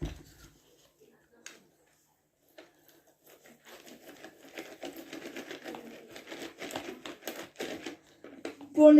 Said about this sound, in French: ça va tout seul pour mélanger avec le Speedy Chef 2.